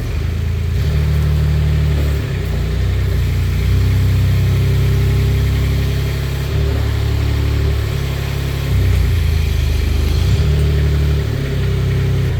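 Brand new Manitou TMM45 4-way truck-mounted forklift engine running steadily, a loud close low rumble with slight shifts in pitch as revs rise and settle, no talking.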